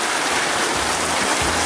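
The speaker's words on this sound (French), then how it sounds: "vous entendez peut-être que la pluie" Rain pours steadily under a porch in Sarajevo, a dense close hiss of falling water with a few low knocks, no one speaking.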